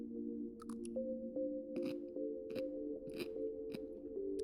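Someone bites and chews on the hard core of a fresh pineapple, close and crisp, with repeated crunches over a steady low tonal hum.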